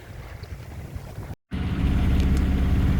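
A sailboat motoring under engine power on a flat, calm sea in fine weather, a steady low engine drone with wind buffeting the microphone, briefly cut out for a moment before resuming louder and continuous.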